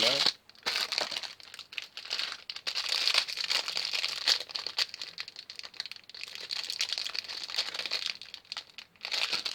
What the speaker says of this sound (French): Après on va déballer la fake Archer Hercules